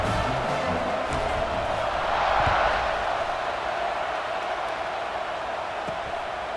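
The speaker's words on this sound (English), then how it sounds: "this crowd is feeling themselves after that last drive" A stadium crowd in EA Sports College Football 26 roars steadily, with a swell of cheering midway that then settles into a sustained, loud crowd murmur.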